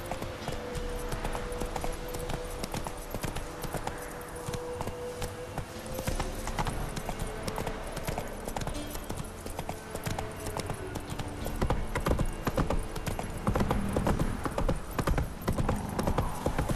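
Roach the horse galloping in The Witcher 3, a fast, continuous drumming of hooves close up that keeps a driving rhythm for the whole stretch and grows louder near the end, with a brief voice at one point.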